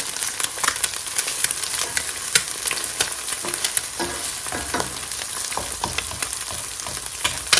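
Eggs sizzle and crackle in a hot pan for a breakfast of fried eggs and bacon, a steady close frying hiss with sharp pops throughout.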